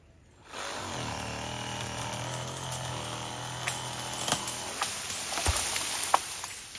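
A saw starts up and cuts steadily partway into a tree limb outdoors in Jamaica, a close continuous buzzing drone with rising crackles and snaps of wood toward the end.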